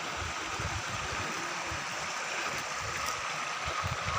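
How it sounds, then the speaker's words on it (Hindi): Water rushes and babbles steadily in a continuous broadband wash, like a small stream flowing close by, a clear mountain brook near a natural waterfall. "ये छोटा सा गधेरा जहाँ स्वच्छ जल कल कल करते हुए"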